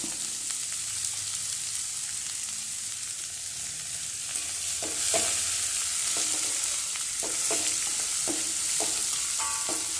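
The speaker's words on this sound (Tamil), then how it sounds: "கொட்டி கொஞ்சம் சால்ட்டும் போட்டு கிளறி கொடுத்து மூடி வச்சு வேக விடணும்" Soft scraping and stirring of chopped papaya in a pan over a steady sizzle, with a few spoon knocks toward the end.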